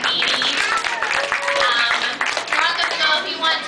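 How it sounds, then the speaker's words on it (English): An aquarium audience applauds after an octopus feeding, a dense patter of clapping from a small crowd with voices and chatter over it. "let's give a round of applause to Marina for feeding"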